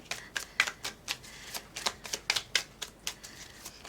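Tarot cards shuffled in quick, crisp bursts, a rapid run of papery flicks in an uneven rhythm, close and alone without talk.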